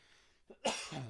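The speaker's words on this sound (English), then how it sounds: "Sorry, my cough is still back." A single short, sharp cough bursts out after a brief quiet moment, close and fairly soft overall.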